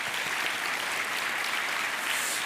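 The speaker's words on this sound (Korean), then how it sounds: "저도 목사님께 박수를 한번 드려야 될 것 같습니다." A church congregation claps steadily for a couple of seconds, a dense, even patter of many hands without pause.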